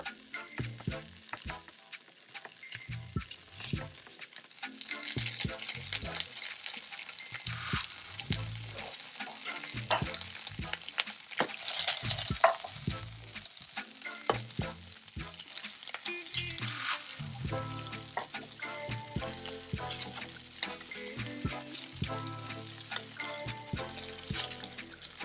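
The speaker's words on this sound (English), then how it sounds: "I'm frying the beef in 2 stages, so this is the second batch right now" Beef sizzles in peanut oil in a wok, a continuous frying crackle broken by repeated scraping and stirring knocks of a utensil against the pan, fairly close and moderately loud, with no speech.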